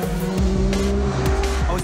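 A Corvette Z06 races through a dockside course, its engine droning loud and close with sliding, rising and falling gear tones and a sharp squeal of tires cutting through.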